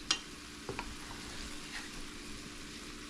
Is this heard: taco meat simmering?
yes